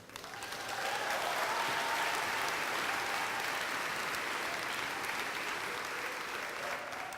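Sustained applause from a graduation audience at a fashion design school recognition ceremony, rising quickly and holding steady, dense and fairly distant throughout.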